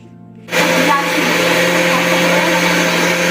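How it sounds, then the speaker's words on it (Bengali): After a brief quiet moment, an electric blender kicks on grinding soaked rice and holds a steady, loud whirring roar with a constant motor hum until the end. "চলো এবারে চালগুলো বেটে নিই"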